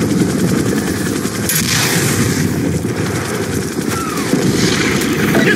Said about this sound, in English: We're taking fire from the gunships right above the base.